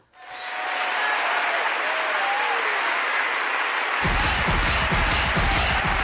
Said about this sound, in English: I'm going to need applause for this title.